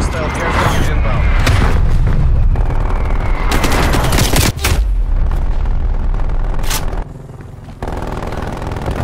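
Frag grenade blasts in Call of Duty Black Ops Cold War multiplayer, loud booming explosions among constant gunfire, with a sharp burst around the middle and dense battle noise throughout, voices occasionally heard.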